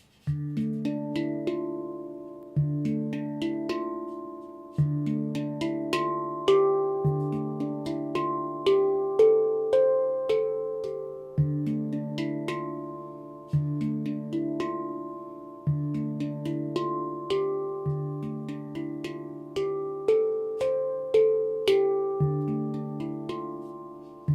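A handpan plays a steady, rhythmic pattern of ringing metallic tones, each note blooming and overlapping with the next, with no talk.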